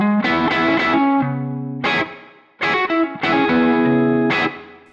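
Electric guitar played through a modded Fender amp with the drive channel set at 3, giving moderate crunchy distortion; several strummed chords ring out and decay, loud and close, with no talking.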